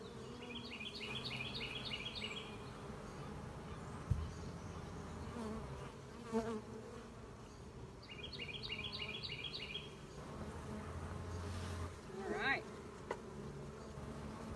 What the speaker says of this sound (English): we have thousands and thousands of bees inside this hive